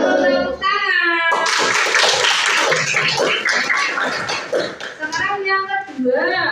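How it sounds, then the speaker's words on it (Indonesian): Young pupils in an Indonesian religious-studies classroom break into a burst of fast, crowded hand clapping for a classmate's correct answer. The clapping runs loud for several seconds, with children's and a teacher's voices speaking just before and after it. "Tepuk tangan."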